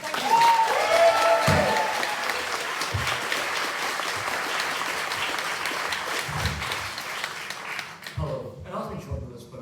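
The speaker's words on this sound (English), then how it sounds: "huge round of applause, lots of cheering comments," Loud applause with scattered cheering from a crowd at an outdoor May Day rally in Edinburgh, sustained for most of the stretch before tapering off, with a voice starting to speak near the end.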